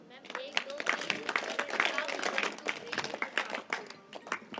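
Schoolchildren at a junior high school in Dehradun clap a special rhythmic group pattern, sharp bursts of many hands in quick repeated groupings, moderately loud, with voices mixed in among the claps.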